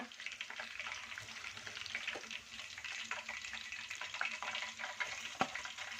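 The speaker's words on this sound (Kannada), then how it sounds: "ಇವಾಗ ಫ್ರೈ ಮಾಡ್ಕೊತೀನಿ ನಾನು" Chicken kebab pieces fry in hot oil with a steady, dense crackling sizzle throughout, punctuated by occasional sharper pops and faint stirring, with no one speaking.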